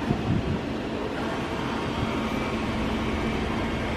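The oven inside a Japanese pizza vending machine runs with a continuous, even whirring hum and faint airy rush, steady throughout with no talk.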